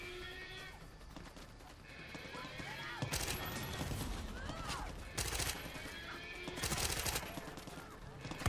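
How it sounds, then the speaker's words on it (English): Weapon fire from a spike launcher in the video game Far Cry 6, several sharp bursts around mid-clip over a busy game soundscape with horse whinnies and clip-clop, dense and fairly loud throughout. "the problem with the spike launcher is that it only launches one spike at a time"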